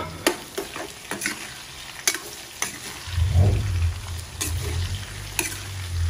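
Nine raw shrimp hit a hot pan and are stirred, a loud sizzle rising midway and holding steady beneath occasional scraping and clinking of a utensil against the pan.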